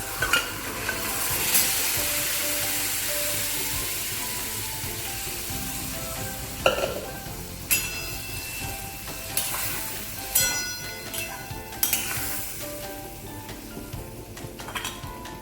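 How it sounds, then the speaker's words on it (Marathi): Cooked black pea usal fries in hot oil, a steady close sizzle that swells and fades, punctuated by crisp metallic clinks and scrapes of a spoon stirring against the pan. "तेलात चांगलं भाजल्यावर ही आपली शिजलेली उसळ यात घालायची."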